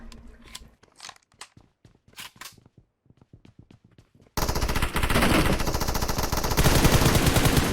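Gunfire in PUBG Mobile: sparse, sharp single shots and short bursts give way to a dense, loud stretch of rapid automatic fire that runs on without pause.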